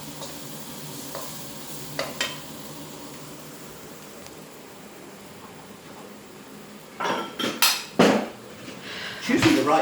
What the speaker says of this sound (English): More sauteing going on there.